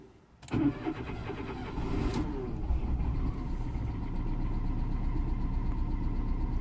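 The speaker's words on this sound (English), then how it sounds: "I'm gonna start the engine because it's in economy mode, so I'm gonna start the engine." A Citroën C2 with a cooling fan fault cranks briefly and fires up, then settles into a steady idle with a slight rise in revs, heard close up.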